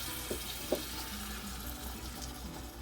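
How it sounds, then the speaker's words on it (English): Water being poured into a pan of browned ground meat with taco seasoning mix, a soft, close, steady splashing and gentle sizzle lasting a few seconds with no talking. "adding 3/4 of a cup of water"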